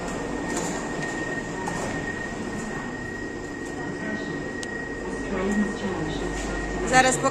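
A metro train in Rome rumbles steadily with a constant electrical hum, wheels rattling on the rails, and a voice briefly audible under the noise.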